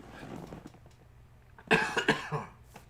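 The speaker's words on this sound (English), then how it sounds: "I have to cough here for a second." A couple of harsh coughs burst out after a quiet stretch of faint background noise.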